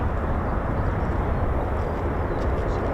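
A Boeing C-17 heavy transport jet departs from RAF Lakenheath, heard as a steady, broadband roar that holds even and loud throughout, without clear rise or fall.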